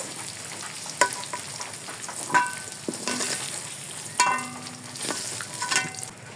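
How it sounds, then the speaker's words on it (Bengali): A fish head frying in a pan makes a soft crackle, broken by sharp clinks and scrapes of stirring at intervals. "এখন ভেজে নিব মাছের মাথা।"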